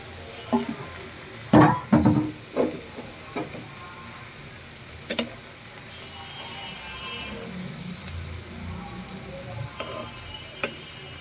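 Bitter gourd and shrimp curry sizzling in a pan as a little broth goes in, a few sharp crackling bursts early on settling into a steady low simmering hiss with occasional faint ticks.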